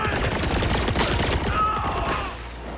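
Assault rifle fire in Borderlands 4, a sustained rapid rattle of shots at close range that breaks off near the end, leaving a quieter tail.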